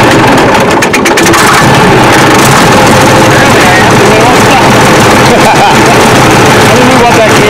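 The diesel engine of a Case 1150 dozer runs loud and close with a rough, steady rumble, and a voice speaks over it.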